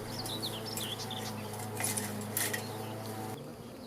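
Honeybees raise their abdomens and fan their wings at a hive entrance, calling the swarm inside: a steady low buzzing drone, close and continuous, with birds chirping in the background.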